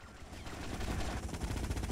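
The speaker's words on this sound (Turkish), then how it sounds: "Helikopterden de fena sıkıyorlar." Rapid gunfire from a helicopter in the video game GTA Vice City Hardlined, a dense, loud rattle of shots over a heavy rumbling background that builds across the moment.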